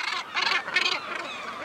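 Dense seabird breeding colony of gannets, kittiwakes and guillemots packed on a protected cliff, a cacophony of overlapping harsh, honking and nasal calls in close bursts, loud and continuous with many birds calling at once.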